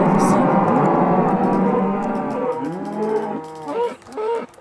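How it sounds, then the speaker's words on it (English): Cow mooing in the video game Minecraft, version 1.6.2, with several overlapping, drawn-out low moos that are loud and close, followed by shorter calls. Faint talk sits underneath. "You can like spawn cows"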